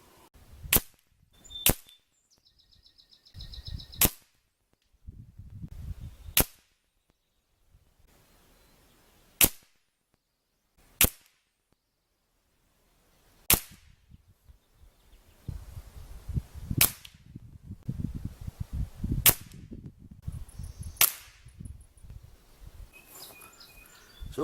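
Benjamin Maximus PCP air rifle fired at targets 20 yards away, about ten sharp loud cracks spaced irregularly over low rumbling handling noise, with faint bird calls outdoors.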